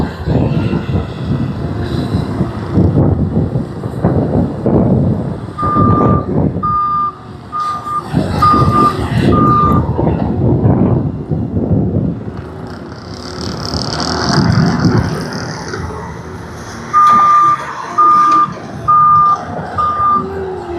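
A dump truck delivering gravel reverses with two runs of loud, evenly spaced backup beeps over rumbling diesel engine and crunching gravel, close by and outdoors.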